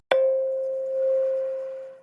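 A single synth note struck sharply, then sustaining with a slightly wobbly, warbling tape-like tone before fading out over about two seconds.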